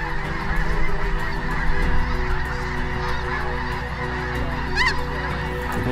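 A large flock of snow geese honks overhead during a hunt, a dense, continuous chorus of many overlapping calls, loud and fairly close, with a few sharper individual honks standing out.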